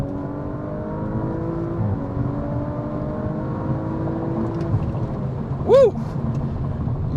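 A 2019 Audi RS5 2.9T Sportback accelerates hard, its engine a steady, rising drone heard from inside the car, with a brief shout partway through.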